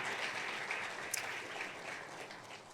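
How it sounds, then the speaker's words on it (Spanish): A church congregation applauds in a steady, dense burst of clapping that holds at an even level throughout, with no talk over it. "¿Por qué no le damos un fuerte aplauso a Carlos y a Samuel, verdad, por la enseñanza del miércoles?"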